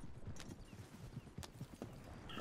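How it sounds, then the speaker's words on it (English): Horse galloping in a video game, rapid rhythmic hoofbeats pounding along continuously, with a few sharp clicks and faint background ambience, fairly quiet overall. "He just gallops along."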